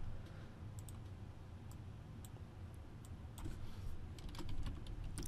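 Someone types on a computer keyboard while entering text in a programming form, light, quiet clicks in irregular bursts over a soft background hum, with no talk.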